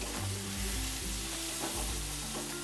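Softened tomatoes fry and get stirred in a pan for a Maharashtrian mixed vegetable dish, a steady close sizzle with occasional scraping strokes, no talking.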